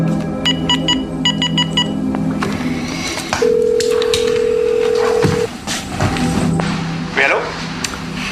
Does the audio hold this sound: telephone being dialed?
yes